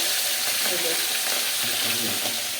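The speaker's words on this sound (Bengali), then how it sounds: "এবার আমরা মাছগুলোকে ভেজে নেবো কড়া তেল দিয়ে তেল গরম হয়ে গেছে" Large pomfret fish fry in hot oil in a wok, giving a loud, continuous, close-up sizzle and crackle that holds steady from start to finish with no talking.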